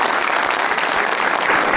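Studio audience applause on a comedy talk show, dense and steady clapping filling the short stretch at even loudness, with no talk over it.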